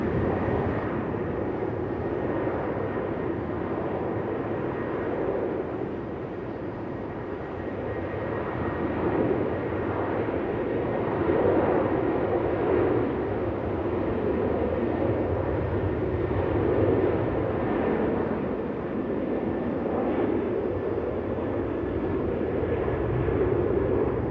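An Emirates airliner taxis at Melbourne Airport, its engines holding a steady, moderately distant whine and rumble that swells slightly midway, heard alone without voices.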